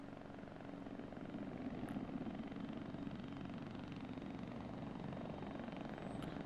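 A helicopter approaches in a Second Korean War alternate-history war video game, its rotor a steady low drone that swells slightly and holds at a distance, quiet with no talk.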